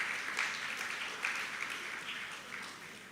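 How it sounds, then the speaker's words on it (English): Audience applause at a literary book party, a steady patter of hand claps with a few louder bursts, moderately faint and slightly distant, without speech. "Round of applause."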